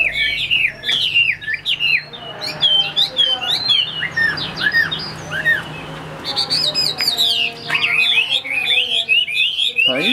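A hwamei songbird sings loud, close and varied, with rapid warbling phrases and trills repeating throughout with short pauses between bursts.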